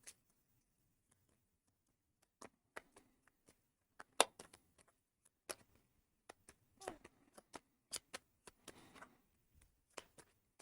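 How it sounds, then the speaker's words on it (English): A deck of playing cards being shuffled during a tabletop board game session, soft scattered riffles and taps in short bursts with quiet gaps between, faint and close. "I'm going to shuffle the deck up."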